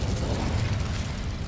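The Incendio fire spell goes off in the Hogwarts Legacy video game as a dense, roaring whoosh of flame. It is loud and sustained and fills the whole short moment with no voice over it.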